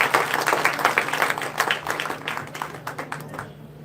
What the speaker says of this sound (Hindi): बिना संकोच जमकर ताली बजाकर हमें बच्चों का अभिनंदन करें